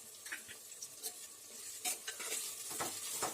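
Ginger garlic paste and onion sautéing in a pan, soft sizzling broken by irregular scrapes and clinks of a spoon stirring, fairly quiet and close.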